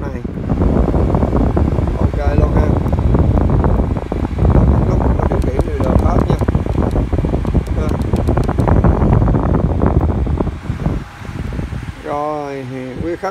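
A Panasonic F-YZMX60 electric fan runs with a steady, loud broadband whoosh of airflow and no clear motor whine, while a voice talks over it for much of the time.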